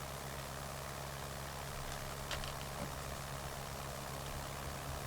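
A SPAD S.XIII World War I biplane engine in Microsoft Flight Simulator drones at a steady low idle, a continuous faint hum with no change in pitch.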